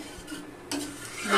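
Chicken being stirred with water in a metal pot, a few scraping strokes of a spoon against the pan with soft liquid sloshing, close and fairly quiet.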